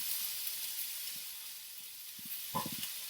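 Corn kernels frying in olive oil with salt and seasoning in a pan, a steady bright hiss that carries throughout, with a few soft knocks and a brief clatter near the end.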